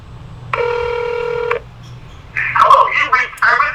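A phone number dialed on a telephone: a short run of touch-tone keypad beeps, then a pause before the line connects and a recorded voice begins answering.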